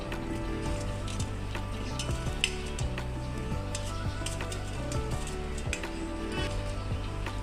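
Mixer grinder blending pointed gourd into a paste, a loud, steady motorized whir with a humming drone that runs unbroken from start to finish.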